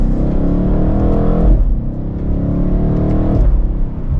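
BMW M8 Competition Convertible pulling hard in sport mode from second gear, its engine note climbing loudly and steadily, broken by two quick upshifts about two seconds apart.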